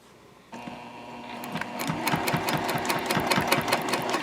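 Sewing machine running steadily as it stitches along a zipper pocket on a tote bag, starting after a brief quiet moment and continuing as a close, fast, even mechanical whir with rhythmic needle clatter.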